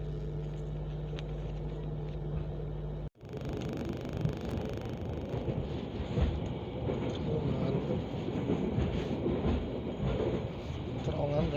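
Inside an empty train car running through a tunnel, after an abrupt cut a steady loud rumble and rattle of wheels and carriage continues throughout, dense and close, without voices.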